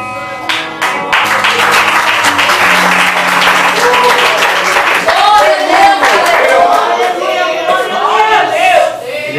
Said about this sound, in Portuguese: Vamos receber aqui nosso aplauso.